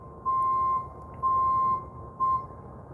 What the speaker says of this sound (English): The reverse alarm works,